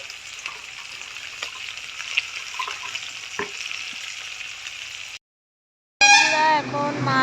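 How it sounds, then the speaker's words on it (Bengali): Small khoira fish fry in a pan with a steady, dense sizzle for several seconds, then a short pause before a louder burst of sound at the end. "খয়রা মাছ ছোট ছোট দেখো বন্ধুরা, মা ভাজা করছে"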